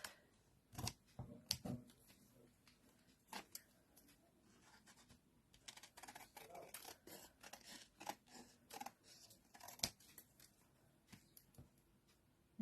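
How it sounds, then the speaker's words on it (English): Scissors trim the edges of a paper piece, giving a scattered series of quiet, close snips and paper rustles at an irregular pace. "Right, just with some scissors."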